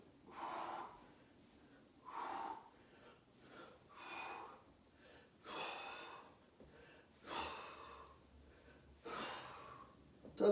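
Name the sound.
heavy breathing during workout exercise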